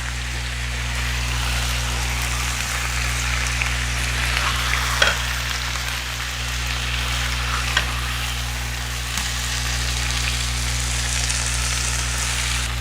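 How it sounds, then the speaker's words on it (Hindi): Chicken sizzles steadily on a hot tawa over high heat, a loud, dense frying hiss with occasional clatters from stirring throughout. "इसे हम तेज़ आंच पे फ्राई कर लेंगे"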